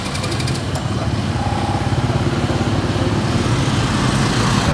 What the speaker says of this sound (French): j'ai loué le scooter pour aller visiter la suite du temple